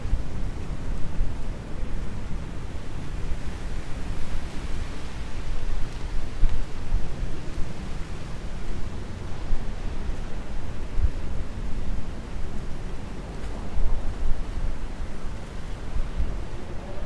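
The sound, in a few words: wind blowing in the city at night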